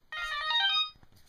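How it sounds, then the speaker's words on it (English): A mobile phone plays a melodic electronic ringtone, a bright chiming phrase lasting under a second, then quiet, heard close up without any talking. "Oh, that's my phone."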